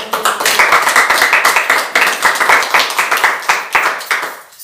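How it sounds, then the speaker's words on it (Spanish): A church congregation claps hard and fast for the Lord, a dense, loud burst of hand claps in quick rhythmic surges that fades out at the end. "Le damos un fuerte aplauso al Señor"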